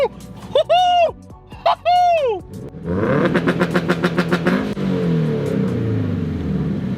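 A car's engine revs up with launch control engaged, a rising, pulsing roar after someone speaks briefly at the start, with rapid throttle bursts that settle into a steady held rev.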